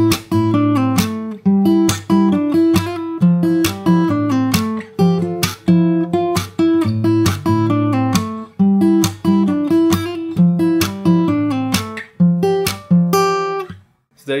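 Fingerstyle acoustic guitar plays the interlude of a song, plucked notes and bass thumps in a steady, busy rhythm, close and fairly loud with no talking.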